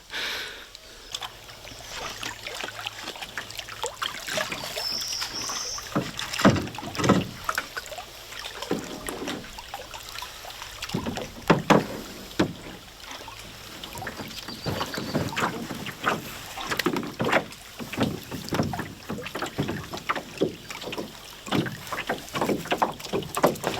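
Paddle strokes from a canoe on a lake in Algonquin Park, rhythmic splashes and drips repeating at close range under gusting wind noise, with no voices.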